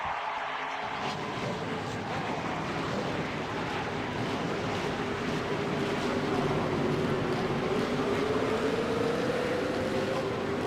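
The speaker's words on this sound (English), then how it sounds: "Gentlemen, start your engines!" Ford race trucks at Bowman Gray speedway in a racing game, a dense, steady roar of several engines with one tone slowly rising in pitch, loud and continuous throughout.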